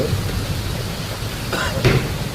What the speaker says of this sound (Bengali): আমাদের এখানে প্রচণ্ড কালবৈশাখী ঝড় উঠেছে